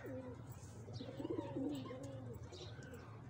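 Pigeons, including a red racer, coo repeatedly at a nearby loft amid ambient background noise, with soft murmuring tones and faint chirps mixed in.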